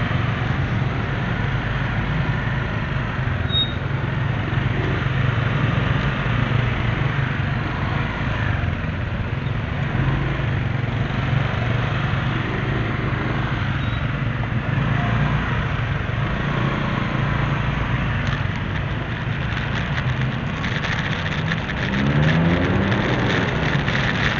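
Engines idle and rumble in a traffic jam on a street in Bukittinggi, West Sumatra, a steady low drone from nearby vehicles that runs unbroken throughout, with a faint shift of engine pitch near the end.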